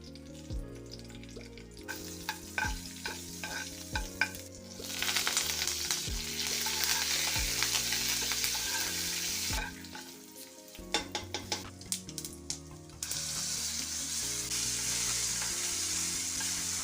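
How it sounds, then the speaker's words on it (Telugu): Tempering spices frying in a pan for cucumber dal, a crackling sizzle in oil with repeated stirring knocks and scrapes against the pan, rising and falling in intensity, no speech over it. "ఇప్పుడు దీనికి పోపు పెట్టుకుందాం."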